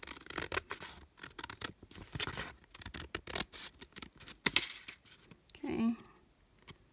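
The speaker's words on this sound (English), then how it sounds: "So let's go ahead and cut this out." Scissors snip repeatedly through paper while cutting out a window envelope, a quick run of close, crisp cuts, with a brief rustle near the end.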